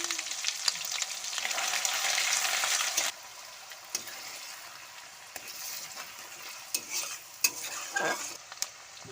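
Onion paste hits hot oil with whole spices (dried red chilli, cinnamon, cardamom and cloves) for a chicken curry, giving a loud, close sizzle for three seconds that then settles to a quieter fry punctuated by stirring clacks.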